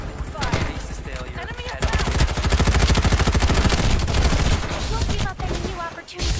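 Sustained rapid automatic gunfire from a Farlight 84 ranked match rattles on loud and close for several seconds, with a few scattered single shots around it.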